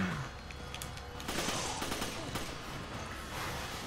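Rapid bursts of AK-47 automatic fire in the action game Resident Evil 5, loud and close, crackling repeatedly over a dense background of game noise.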